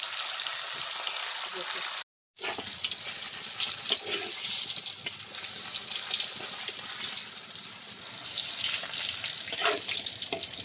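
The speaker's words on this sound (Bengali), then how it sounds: "চুলার উপরে কুমড়োটা ভাজা হচ্ছে" Pumpkin fries in a clay pan on the stove, giving a dense, loud and steady sizzle close up. The sizzle cuts out briefly near the start and then carries on without pause.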